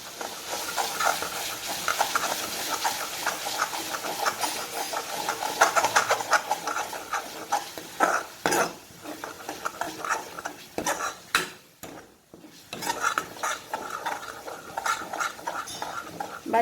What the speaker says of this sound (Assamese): এইখিনি এতিয়া অকণমান মিক্স কৰি লওঁ।